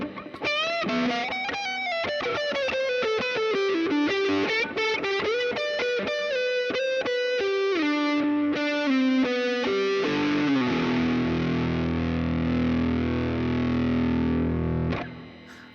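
Electric guitar through a Line 6 POD HD500X preset with all its effects combined: fast distorted runs and bends giving way to a long sustained compressed note, played alone at full volume.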